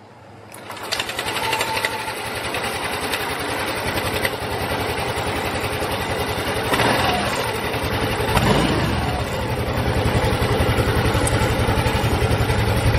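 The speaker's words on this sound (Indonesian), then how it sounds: "Mari kita nyalakan motornya." A Yamaha Aerox/NMAX scooter engine, said to run smooth when cold but rough with ticking when hot, cranks and catches after a second, then settles into a steady, loud, buzzing idle close to the mic.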